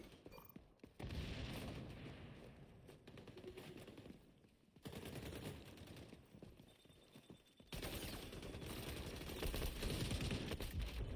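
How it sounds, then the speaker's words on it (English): Automatic gunfire from an XDefiant multiplayer match rattles in fast bursts, separated by brief pauses and followed by a long sustained burst of shooting that runs to the end. "Who's shooting at me?"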